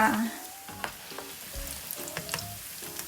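Oil bubbles and sizzles softly as pork deep-fries for crispy pork, with scattered small pops and crackles.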